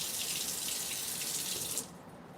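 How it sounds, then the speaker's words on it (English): A kitchen tap runs in a strong, steady stream while an onion is rinsed beneath it, close by, then the water cuts off abruptly near the end. "Should I rinse the onion first?"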